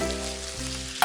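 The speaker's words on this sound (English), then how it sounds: "Put in the clams." Clams drop into a hot pan and set off a steady, close sizzle that continues through the moment, ending with a brief clatter.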